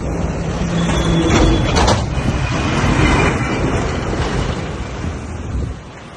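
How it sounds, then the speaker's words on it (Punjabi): Road traffic streams past on a highway near a bridge and toll plaza, a broad loud rumble swelling and fading with wind buffeting the microphone and no speech. "ਉਹ ਦੇਖੋ ਗੱਡੀਆਂ ਜਾਂਦੀਆਂ ਆ"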